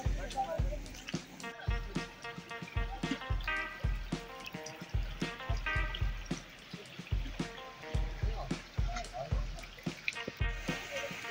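A creek flows beside a hiking path on a forest walk, with a steady, close trickling and splashing of water punctuated by irregular thumping footsteps along the trail.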